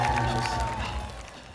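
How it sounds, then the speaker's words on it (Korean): A crowd at a waacking dance battle final applauds and cheers for the two finalists, a dense, loud wash of clapping and shouting that fades slightly over a short stretch. "두 명의 댄서 마리드 그리고 댄젤에게 큰 박수와 함께 환호성 보내주시기 바랍니다"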